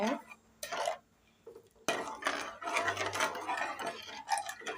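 Jam being stirred in a pot with a spatula over low flame, intermittent scraping and clattering against the metal in uneven bursts with brief quiet gaps.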